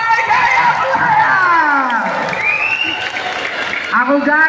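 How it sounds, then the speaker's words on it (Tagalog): A crowd at a barangay gathering in Aplaya applauds and cheers loudly, with shouts rising over the clapping and voices mixed in throughout. "Malakas ang palakpakan, sigawan para sa Barangay Aplaya!"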